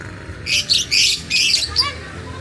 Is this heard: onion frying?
no